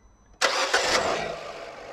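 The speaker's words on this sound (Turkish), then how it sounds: "Arabayı çalıştır." A Fiat Egea car engine, suspected of a blown cylinder head gasket, cranks and fires into a loud, steady idle after a brief quiet moment, heard up close with no talking.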